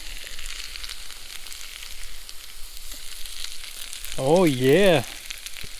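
A cutthroat trout fries in a pan outdoors with a steady, close sizzle throughout, while a short voiced exclamation rises briefly near the end.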